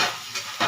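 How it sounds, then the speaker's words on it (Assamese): Peanuts frying in a pan with bitter gourd make a brief hissing sizzle that dips briefly and then flares up again at the end. "বাদাম কেইটামান দি পূৰা ভাজিব।"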